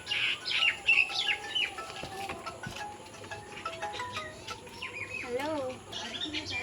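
Local domestic pigeons chirp and call near and far while wings flutter and feet shuffle around them, with a faint voice in the background.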